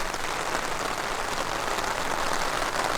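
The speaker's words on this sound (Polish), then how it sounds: "Strasznie strasznie, ale to strasznie leje." Heavy rain pours down during a feeder fishing trip, a dense, loud and constant roar of drops drumming on surfaces with no pauses.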